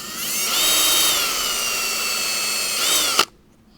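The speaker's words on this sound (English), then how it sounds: "when you're drilling a pilot hole, you do not need to go the whole way" A power drill runs steadily at high speed while boring a pilot hole part way through wood for an arcade cabinet build, loud and close, then winds down and stops abruptly near the end.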